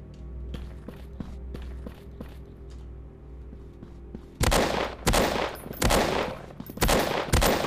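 Gunshots in the horror game Generic Horror 2016, an Amnesia-style subway horror title, a series of loud, sharp reports spaced irregularly over several seconds, preceded by lighter clicks and footstep-like taps.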